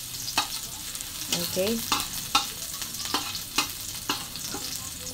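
Garlic sautéing in oil in a pan, a continuous sizzle broken by repeated sharp scraping stirs, with a brief word spoken once.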